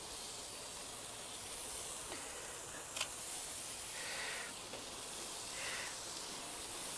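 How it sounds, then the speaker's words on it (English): Thin Thai pork skewers sizzle on a grill over tin foil, a faint, steady hiss with a few brief crackles and spits and no talk. "So now we'll put the skewers on the grill."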